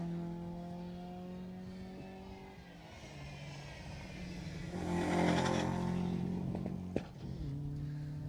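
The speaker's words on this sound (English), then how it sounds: "As we just watched the last cars come through here" A rally car comes through a Jersey Rally 2018 stage, its engine a droning, revving roar at moderate distance that swells to a peak, then eases away.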